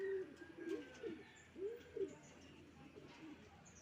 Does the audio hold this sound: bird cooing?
yes